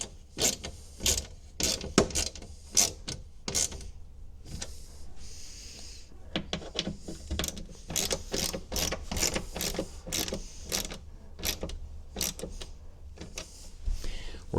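Ratchet wrench tightening bolts into aluminum inside a Jeep Wrangler interior, a close series of sharp, rapid clicking bursts repeating steadily through the whole stretch with a brief pause partway.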